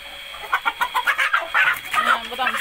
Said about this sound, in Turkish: Anne anne, horoza bak hele.